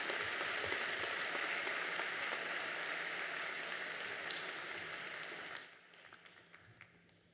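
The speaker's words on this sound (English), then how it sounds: "Please give a large round of applause for this amazing group of students." A large audience applauds a group of scholarship and bursary students at a high school graduation ceremony, a dense, fairly distant wash of clapping that thins into scattered claps near the end.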